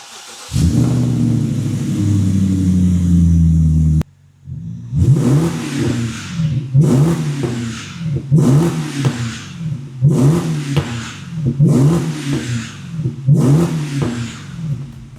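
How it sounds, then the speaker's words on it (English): A BMW 750i V8 with its exhaust back box deleted holds a loud, steady rev, cuts off, then gives a series of about seven sharp throttle blips, each rising and falling. Close and aggressive. "We like how it sounds now."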